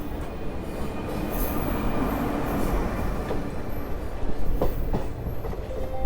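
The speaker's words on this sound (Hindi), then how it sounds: "हमारी ट्रेन अब यहाँ से सीधा निकल चुकी है नरकटियागंज रेलवे स्टेशन की तरफ।" The Jannayak Express passenger train, running from Gorakhpur toward Raxaul in India, rolls along the tracks with a loud, steady rumble, rhythmic wheel clatter and brief squeals, close up and without talk.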